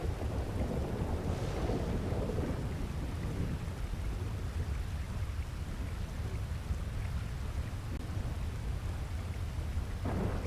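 Steady heavy rain hisses throughout, with a low rumble of thunder rolling early on, no voices, in a video game.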